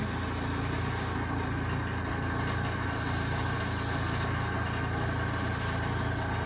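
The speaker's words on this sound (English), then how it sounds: "there goes the airbrush. There goes the compressor" A small airbrush compressor runs with a constant, even mechanical hum and hiss that fills the whole stretch without pause at moderate level.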